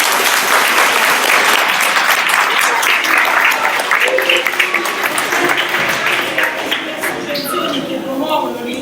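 A school audience in Policoro bursts into loud, sustained applause: dense, crowded clapping that thins and fades slightly toward the end.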